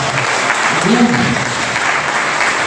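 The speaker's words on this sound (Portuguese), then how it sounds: "Você pode aplaudir no Senhor." A church congregation applauds during an evening worship service, a steady wash of clapping with a brief voice rising faintly through it.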